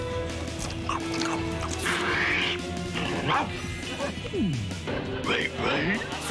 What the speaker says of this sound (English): After all, Scooby-Doo is a dog, and we love him very much.